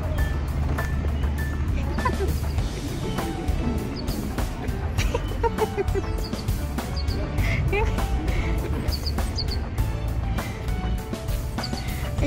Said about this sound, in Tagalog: Ayan ang mga bibe.